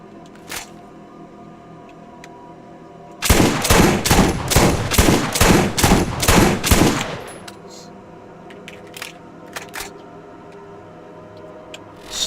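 A rapid-fire gun with a Type 2 barrel in the video game Zombie Island lets off one loud burst of about nine quick shots, followed by quiet with a few faint clicks.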